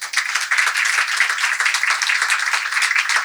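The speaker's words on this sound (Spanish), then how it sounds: "Un aplauso." An audience claps at a literary event's opening speeches, a dense burst of applause from a crowd in a hall that holds steady for a few seconds.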